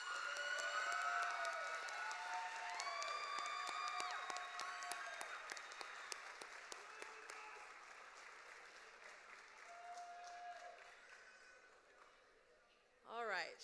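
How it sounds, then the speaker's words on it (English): Audience applause at a high school graduation at KIPP Indy Legacy High, as seniors clap for their families; the clapping is moderate and fades gradually, with tonal music or chimes sounding over it before quieting. "Seniors, please give your families a round of applause."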